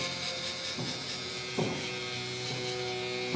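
A Babyliss Gold SnapFX electric hair trimmer buzzes steadily while cutting hair, a close, constant motor hum with brief louder passes as the blades move through the hair.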